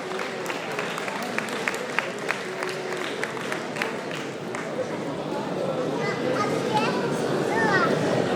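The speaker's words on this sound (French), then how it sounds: "On peut l'applaudir plus fort, hein," An outdoor crowd at a 10 km race podium ceremony claps for a finisher, scattered applause that thickens toward the end, mixed with crowd murmur and a voice on the loudspeaker.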